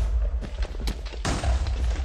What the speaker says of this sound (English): They just love using fireworks.